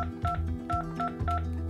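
Touch-tone keypad beeps on a Sangoma desk phone while an extension and password are keyed in, several short dual-tone presses in an uneven rhythm over a low background hum, close and clear.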